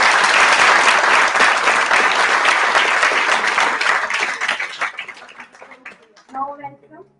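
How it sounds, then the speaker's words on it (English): A student audience at a university interactive session applauds a guest, a loud sustained round of clapping that thins out and tapers, with a voice beginning to speak at the close. "we have a great round of applause for such a great personality."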